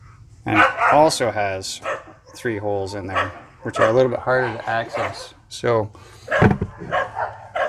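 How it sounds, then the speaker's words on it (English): Dogs bark intermittently in the background while someone talks steadily through a snowblower carburetor cleaning, the barks mostly buried under his voice. "sorry about the dogs"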